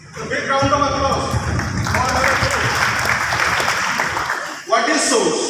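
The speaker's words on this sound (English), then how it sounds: "Big round of applause." Loud, continuous applause from an audience in a sports auditorium hall at a career counselling programme, with a voice talking over the clapping before it breaks off briefly and resumes.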